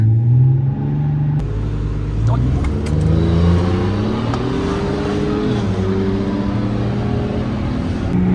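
A turbocharged Lada 2103 accelerates hard in a race with a Ford F150, its loud engine droning and climbing in pitch through the gears from inside the car, with people talking over it.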